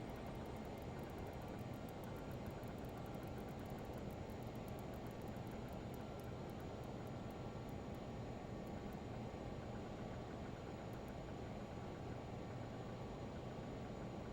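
Twin engines of a Learjet 35 in a flight simulator on approach with power pulled back: a steady, even broadband jet roar and hiss holding level throughout with no talking.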